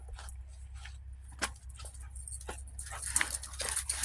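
Puppies play in fresh snow during a March snowstorm in Winston, Oregon, giving small yips and whimpers over a steady low outdoor rumble, with scattered faint jingling.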